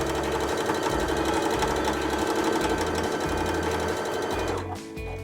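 A sewing machine stitches fabric pieces for a quilted rag bag in steady, rapid bursts of mechanical whirring and pulsing, close and continuous, before slowing and stopping near the end.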